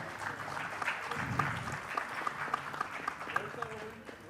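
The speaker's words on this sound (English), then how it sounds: "Ladies and gentlemen, a bigger round of applause for Osman." Audience applause for a panelist at a conference panel session, clapping running under an announcer's voice, with a few sharp tones and clicks breaking through.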